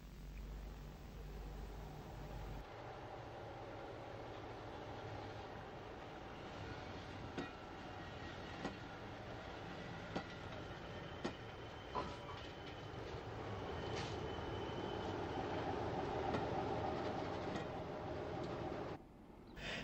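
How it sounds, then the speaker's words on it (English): A diesel locomotive running round its train at Birr station in 1960s Ireland, a steady low engine rumble with occasional wheel clicks and creaks, moderately distant and alone without talk. "As the loco runs round its train at Birr"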